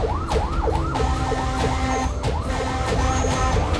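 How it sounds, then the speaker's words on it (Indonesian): A fire engine on duty wails its siren in rapid repeating up-and-down sweeps, loud and close over rumbling traffic, with a horn blaring alongside. "Sirine kencang dan klakson terus dibunyikan agar pengendara lain berkenan memberi jalan."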